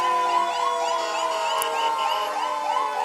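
A Utica ambulance siren wails loudly and continuously as it passes close by in a St. Patrick's Day parade, its rising and falling tone cycling steadily.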